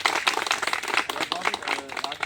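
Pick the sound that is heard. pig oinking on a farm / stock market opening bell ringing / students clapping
students clapping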